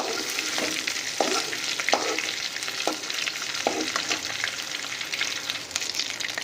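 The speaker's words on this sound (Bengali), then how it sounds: "এই তেলেতেই আমরা এই বড় দাঁড়াগুলোকে দিয়ে দিচ্ছি, এগুলোকে দিয়ে ভালো করে ভাজা করে নেব" Crab pieces frying in hot oil give a steady, dense sizzle that fills the clip. A few sharper crackles and clicks from stirring rise above it, with no one talking.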